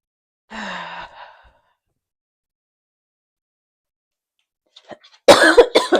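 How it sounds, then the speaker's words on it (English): A person indoors sighs audibly, then after a long silence gives a few sharp, close coughs near the end. "Now the mic picks up me coughing."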